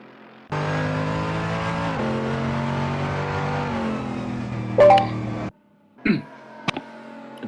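A loud race car engine drones steadily, its pitch shifting as it revs, then cuts off, followed by a few sharp bursts and brief engine noise.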